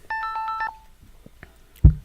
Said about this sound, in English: Looks like we're getting a phone call here.